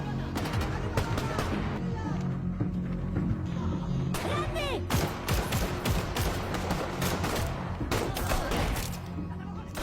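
A battle scene in an action film, with dense overlapping gunfire and bursts of shots over a loud, busy mix of impacts and movement that keeps up the whole time.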